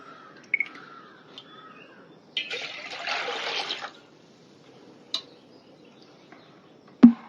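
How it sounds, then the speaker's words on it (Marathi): Water is poured gently off settled wheat starch for kurdai, giving a single soft trickle of about a second and a half in an otherwise quiet room, with a few faint clicks and knocks around it. "तर आता हे न ढवळता चिक असं हळूच पाणी सगळं काढून घ्यायचं."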